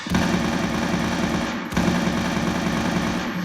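Rapid automatic gunfire from a first-person shooter game being built in a custom C++ OpenGL engine, a loud continuous machine-gun rattle in two long bursts split by a brief pause.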